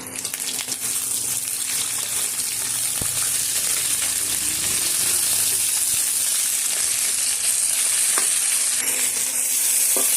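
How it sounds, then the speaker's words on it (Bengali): Potatoes frying crunchy in hot oil with salt and tempering spices give a loud, continuous sizzle, with occasional stirring scrapes and clinks in the pan. "নুন দিয়ে ফোড়ন দিয়ে একসাথে আলুটা ভালো করে ক্রাঞ্চি করে ভাজা করবো"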